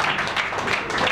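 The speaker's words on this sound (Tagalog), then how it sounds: "Pumalakpak lahat ng mga anak ng Diyos." A church congregation claps together during a midweek worship celebration, a dense, steady wash of many hands at close range with no talk over it.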